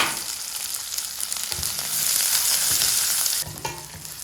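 Shallots and garlic frying in oil for a thuthi leaf dish, a strong close sizzle with stirring scrapes, rising louder midway then easing after a spoon knock.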